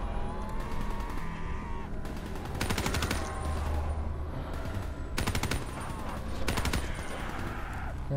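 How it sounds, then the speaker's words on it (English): Rapid bursts of machine gun fire in the video game Black Ops 3 on Realistic mode, several sharp repeated volleys loud and close over a continuous background rumble and game ambience. "I'm just sitting up here with my machine gun"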